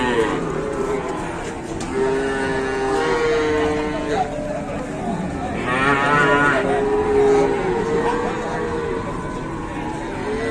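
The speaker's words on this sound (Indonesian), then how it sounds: "Sapi kecil-kecil seperti rusa ya sapinya." Small cattle mooing repeatedly at a crowded livestock market, several long calls near and farther off over steady crowd chatter and background bustle.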